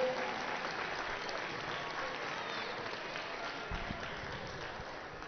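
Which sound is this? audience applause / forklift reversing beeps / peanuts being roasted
audience applause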